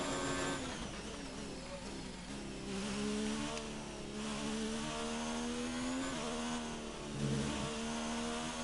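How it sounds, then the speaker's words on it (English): An Alfa Romeo Formula One car engine in the F1 2019 video game screams at high revs at the Belgian Grand Prix, bouncing against the limiter in a buzzing, stuttering drone that holds steady throughout with no talking. "You can hear the rev limiter."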